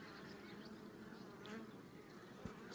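Honeybees buzz steadily around a strong three-storey hive, a faint continuous droning hum of many insects with no talk.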